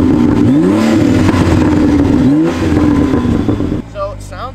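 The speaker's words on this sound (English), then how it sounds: "Let's get some rev shots." A BMW engine from a 600HP build, tuned for 58 extra horsepower, revs hard and loud in two rising sweeps before cutting off abruptly, leaving a quieter idle burble.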